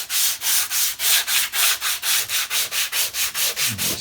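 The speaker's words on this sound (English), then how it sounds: "Just sanding gently." A guitar body is sanded by hand with sandpaper wrapped around a timber block, making about fourteen even, rhythmic scratchy strokes that repeat steadily and up close, with no voices.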